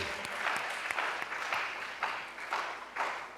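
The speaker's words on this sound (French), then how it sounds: "Acclamons le Seigneur" A church congregation claps at a worship service, steady broadband applause with rhythmic surges of clapping, moderately loud and filling the room, with no talk over it.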